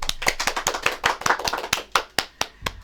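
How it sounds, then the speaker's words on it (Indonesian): Audience clapping at an online tutorial session for Universitas Terbuka, a run of separate sharp claps in a steady, fairly even rhythm, several hands together, close and clear with no talking. "Tepuk tangan dulu dong"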